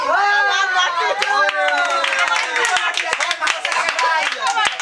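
An audience at a Kali Puja prize distribution bursts into loud, uneven clapping, with excited voices and chatter rising over and between the claps.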